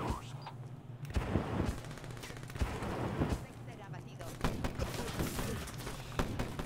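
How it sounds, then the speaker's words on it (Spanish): Gunfire in the video game Call of Duty Black Ops 3 comes as repeated sharp bursts and volleys of shots, some close and loud, scattered across the whole clip. "¿Quién me ha disparado?"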